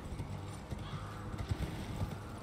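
Horse hooves galloping in Elden Ring, a steady clip-clop rhythm at moderate loudness beneath game ambience and a voice talking over it.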